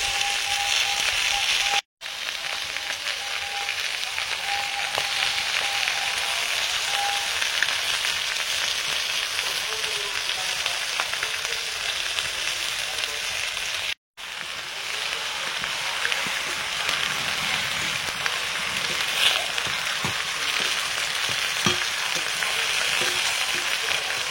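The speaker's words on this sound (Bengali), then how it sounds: "মশলার সঙ্গে মাছটা নেড়ে নিয়েছি" Lote fish frying with spices in a pan, a continuous crackling sizzle with irregular stirring scrapes, close and steady, broken by two brief silent gaps.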